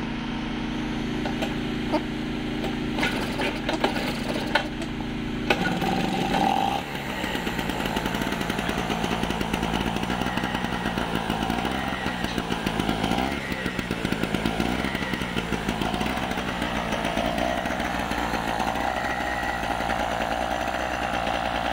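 A 950 watt portable generator is pulled into life: irregular tugging and clatter for a few seconds, then the small engine catches and runs with a steady buzzing drone, close and loud to the end.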